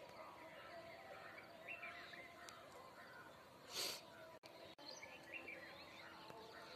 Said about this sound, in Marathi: सकाळी सकाळी पक्ष्यांचा किलबिलाट